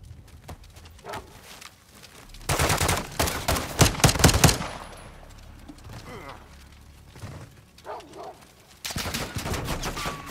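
Gunfire in Call of Duty: Modern Warfare 2: sharp bursts of rapid shots rattle in clusters between quieter stretches, with a renewed loud volley at the end and voices shouting in between.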